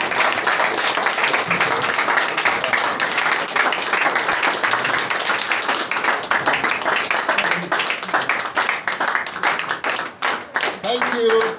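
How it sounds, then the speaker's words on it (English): An audience at a public gathering rises to clap for a leader, a dense, steady burst of many hands that runs the whole stretch with voices murmuring and calling underneath. "Rise up and clap for leader,"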